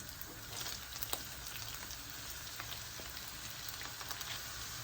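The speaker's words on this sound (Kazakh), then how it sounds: "Баяу отта тағы да 10 минут қуырып аламыз" Tomato paste, bell pepper and tomatoes fry in a pan over low heat, a soft continuous sizzle and crackle with occasional sharper pops, faint and steady with no talk.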